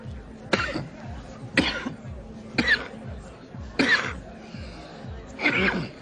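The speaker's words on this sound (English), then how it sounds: "Unbelievable amount of phlegm in that cough." A person coughs heavily five times at steady intervals, each cough wet and rattling, with faint chatter in the background.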